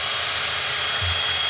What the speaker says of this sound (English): this is a 16-inch drill bit, 16 inches long